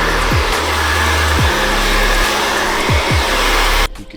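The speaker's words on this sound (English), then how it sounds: "All the excess hair off with the blow dryer." A blow dryer clearing loose hair off after a low skin fade haircut, a loud steady airy roar running continuously with faint thumps, then cutting off abruptly near the end.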